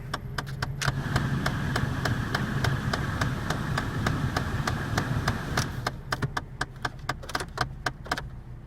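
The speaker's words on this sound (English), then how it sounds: "Sounds like we might have a mixer door acting up" A rapid, steady series of sharp clicks repeats inside a Chevrolet Cavalier, a faulty blend door actuator ticking over a low hum, growing more spaced and distinct toward the end.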